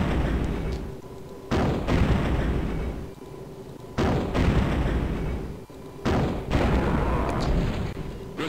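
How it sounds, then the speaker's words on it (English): Artillery in the turn-based strategy game Spellcross fires three heavy booms, each one spaced a couple of seconds apart and each followed by a long rumbling tail of explosions. "artillery caught an advancing Wolf Rider squad."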